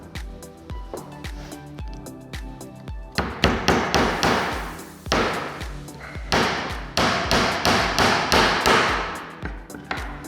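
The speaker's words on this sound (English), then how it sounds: "what I'm going to go and do now is nail 3 nails on each piece" Nails being hammered into a timber planter box, repeated sharp hammer strikes in steady bursts, close and loud, with the blows growing denser and heavier partway through.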